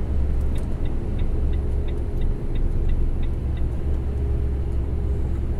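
Vehicle driving on the Curitiba ring road highway near São José dos Pinhais, a loud steady engine and road rumble throughout, with faint rhythmic ticking high above the drone.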